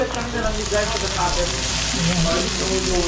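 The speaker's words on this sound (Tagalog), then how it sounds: "So, igisa ko muna ito dito." Food sautés in a hot pan with a loud, dense, continuous sizzle close by, faint tonal clatter and movement scattered through, and no clear talk.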